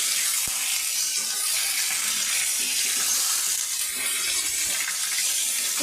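Washed chicken pieces with giblets, heart, liver and neck, go into a pan of hot oil with reddened fried chili and onion, giving a loud, steady, close hiss of sizzling throughout.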